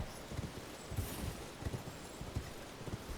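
Horse hooves clip-clop at a steady walking rhythm in the Elden Ring video game, faint and even, with no other sounds over them.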